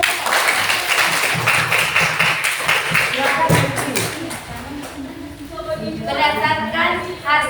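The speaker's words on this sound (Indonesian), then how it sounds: "Tepuk tangan untuk kelompok 4." Classmates clap for a student group standing up in a classroom, a brisk patter of applause mixed with chatter, followed by a student beginning to speak.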